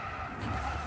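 A Bugatti Veyron in the Gran Turismo 6 racing game brakes hard into a corner, its tires skidding and squealing in a loud, steady screech over the engine's drone, with no talking.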